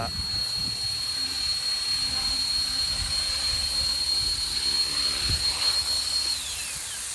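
An RC helicopter with a 450 motor lands, its steady high-pitched motor whine and rotor hum holding close and then sliding down as it winds down, while someone talks over it.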